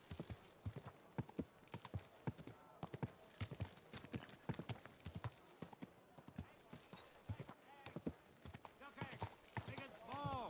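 Horse hooves clip-clop steadily on a medieval town street in Kingdom Come Deliverance II, a close, regular rhythm of sharp hoof strikes, with a whinny near the end and voices talking at times.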